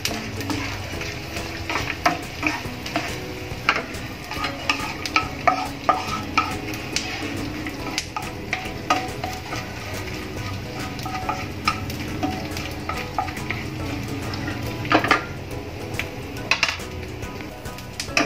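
Edible gum (dink) frying and puffing in a pan for methi ladoo, a low sizzle under frequent scraping and clinking of a spoon stirring against the pan, close and continuous with no talk.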